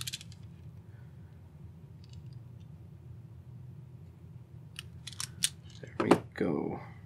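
Wire cutters give a few sharp, close snips as short wire ends are trimmed, coming in a quick cluster near the end after a stretch of low background hum, with a voice speaking briefly.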